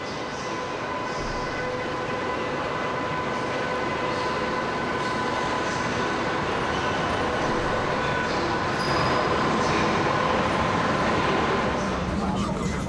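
A seven-car passenger train hauled by a class 101 electric locomotive, rated for 220 km/h, rolls past with a steady, loud rumble that holds evenly for the whole stretch.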